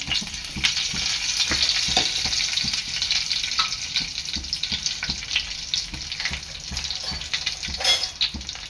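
Cumin seeds and curry leaves splutter in two to three ladles of hot oil for a mixed vegetable dish, giving a dense, steady sizzle with rapid crackles and a few stirring clicks, with no voices.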